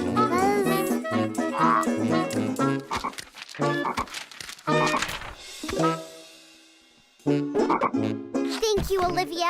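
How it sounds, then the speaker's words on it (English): Cartoon frog croaks in a series of bouncy, voiced calls, mixed with music and character chatter; loud and close, with a brief lull near the six-second mark before the sound returns. "Francine, it's just a frog."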